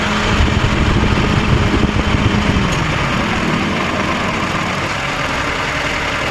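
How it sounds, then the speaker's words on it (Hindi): Car engine idling with the air conditioning just switched off, a steady, close mechanical rumble and hum that holds even throughout, with no talking. "गाड़ी स्टार्ट है, इंजन आप देख सकते हैं, इंजन स्टार्ट पोजीशन में।"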